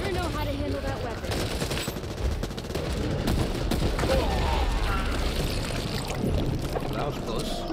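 Dense bursts of weapon fire rattle continuously in a horror-style video game, loud and close, mixed with other game noise and voices talking throughout.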